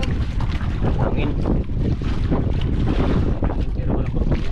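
Strong wind buffets a large fishing boat out at sea, a loud, steady roar with gusting rumble that never lets up.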